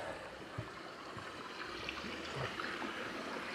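A small, low-flowing creek on a trail in West Vancouver trickles and gurgles steadily, a soft continuous wash of water up close with no one speaking.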